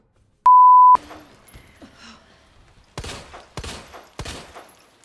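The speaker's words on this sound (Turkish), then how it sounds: "Bak o kadar kurşun sıktım." Three loud gunshots from a handgun in Resident Evil 2 Remake ring out near the end, evenly spaced. A short steady beep sounds first, followed by quiet game noises and muffled groans.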